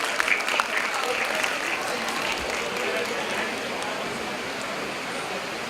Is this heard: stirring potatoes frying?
no